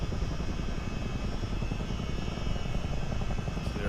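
A CH-47D twin-rotor helicopter in a flight simulator game drones steadily with dense, even rotor and engine noise that stays loud and constant throughout, with no talk.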